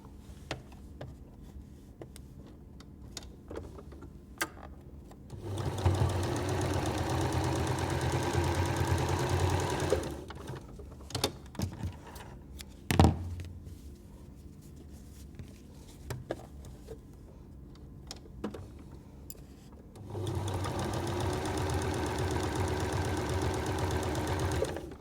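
A domestic sewing machine runs in two steady bursts while stitching appliqué seams on a patchwork flower quilt block, its motor whirring evenly at close range, with quieter handling clicks and fabric movement between the runs.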